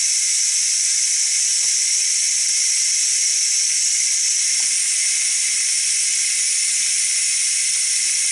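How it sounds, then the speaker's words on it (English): Steam hissing steadily from the quick release valve of a Ninja Foodi pressure cooker, a loud continuous close jet with faint clicks and no talking. "you turn it to the right, and steam starts coming out like that."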